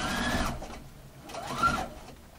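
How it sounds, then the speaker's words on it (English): A sewing machine stitches the seam line of a gathered set-in sleeve in two short bursts of rapid mechanical whirring with a brief pause between them, close and moderately quiet, with no speech. "will be actually stitching on the seam line, the one that I'm doing now"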